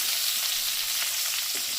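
Steady, hissing sizzle of pointed gourd pieces frying in hot oil, continuous and close, with no voices.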